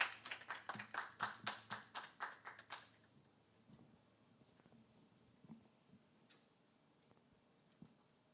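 A church congregation claps together in a quick, steady rhythm, about a dozen sharp unison beats over roughly three seconds before stopping abruptly, leaving a quiet room with faint rustling.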